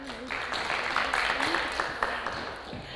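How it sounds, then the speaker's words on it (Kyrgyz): A game show audience applauds in a steady, dense patter of clapping that lasts throughout, with voices talking underneath. "Кол чабалар."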